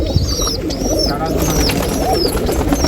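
Pigeons coo at a breeder's loft in Nashik, their soft rolling calls close by and partly under someone talking, with a few higher chirps mixed in.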